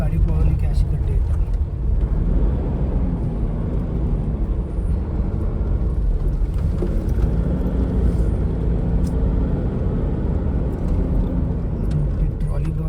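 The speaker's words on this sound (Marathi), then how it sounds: "थोडीशी गाडी पळवली की अशी खड्डे येतात" A Toyota Innova drives over potholes on the Mumbai-Goa highway (NH 66): a loud, continuous road and engine rumble heard from inside the car, with muffled talking beneath it.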